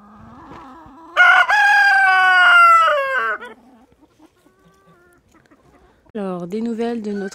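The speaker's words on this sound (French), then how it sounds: "Alors, des nouvelles de notre coq rescapé." A rooster that survived a predator attack crows loudly and close by, a long strained call, then falls quiet before clucking and starting another call near the end.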